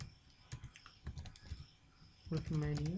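Typing on a computer keyboard while entering a password in a Laravel web app, a quick run of close, light key clicks in short bursts, with a voice starting to talk near the end.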